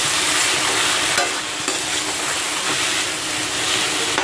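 Potato filling for singara, mixed with chopped coriander leaves, is stirred in a hot pan, giving a loud, dense and steady sizzle with faint soft scrapes beneath it, and no one speaks.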